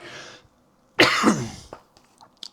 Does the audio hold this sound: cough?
yes